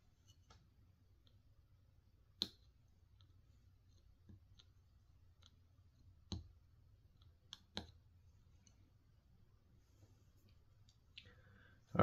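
Resistor legs on a Ms. Pac-Man Genesis cartridge being snipped off, a few sharp, sparse clicks from cutters spaced seconds apart over a quiet background.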